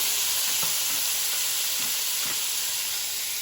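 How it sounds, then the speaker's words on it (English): Steak sizzling on a hot hibachi griddle at home: a loud, continuous hiss of frying with a few faint scrapes underneath, steady throughout and with no one talking. "we're going to put the steak right in there"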